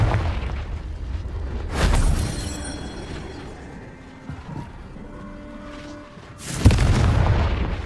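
The Confringo fire spell explodes in Hogwarts Legacy with a deep boom, followed by a low rumbling tail and then a second heavy blast near the end, loud and close.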